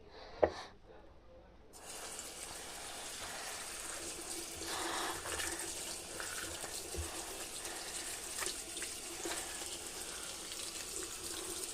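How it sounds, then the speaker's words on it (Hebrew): A tap runs steadily, filling a container with foamy water, a continuous hissing gush that starts after a brief knock and goes on without talk. "בואו נשים עוד קצת מים"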